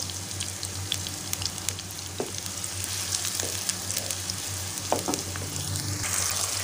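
Steady sizzling of onions frying in a pan, with occasional scraping and clinking as they are stirred, no voices.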